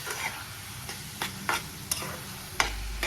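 Grated coconut and jaggery are stirred and fried in a pan for coconut laddoos, with about seven distinct scraping strokes of the spoon over a quiet, low sizzle and no speech.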